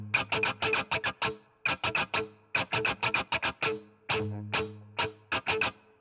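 An electric guitar plays the choppy rhythm strumming pattern of a song, quick muted and accented strokes in tight bursts with short gaps, close and steady throughout.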